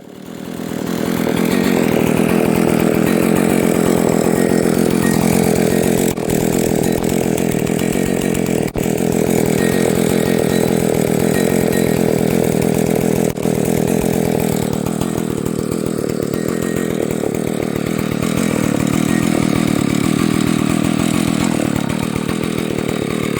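A Husqvarna 285/298 chainsaw engine runs after a carburetor diaphragm replacement. It holds a loud, steady two-stroke drone for over twenty seconds, close up and with no voices.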